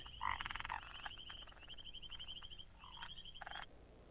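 Frogs croak in a sunny African wild setting at mating time, with rapid pulsed rattling calls repeating in bursts, several voices overlapping at moderate distance over quiet background.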